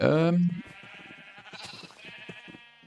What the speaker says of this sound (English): yes, baby sheep.